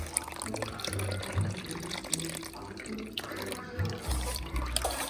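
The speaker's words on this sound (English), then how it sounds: "now you're gonna go ahead and strain your carrot juice" Homemade Jamaican carrot juice poured through a strainer, a continuous close trickle and splash of liquid over a low background rumble.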